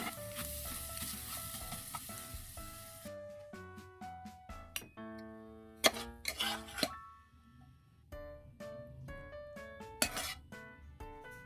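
Bitter gourd (ampalaya) being sautéed in a pan, soft sizzling under repeated metallic clinks and scrapes of a utensil against the pan, irregular and close.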